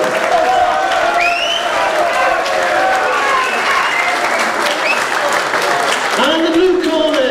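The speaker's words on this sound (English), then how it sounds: "Big round of applause for young Zach" An audience claps steadily at an amateur boxing match in Llay, Wrexham, a dense, sustained applause with a few cheers, while an announcer's amplified voice carries over the crowd.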